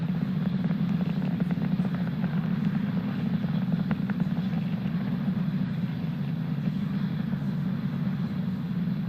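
A SpaceX Falcon 9 rocket climbing toward orbit on a Starlink launch gives a steady, heavy low roar with a broad rumbling hiss above it. The sound is continuous and even, heard far off with no voices.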